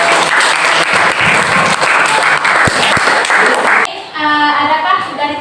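Audience applause in an Indonesian classroom after a group presentation, a loud sustained burst of clapping from many hands that cuts off abruptly near the end.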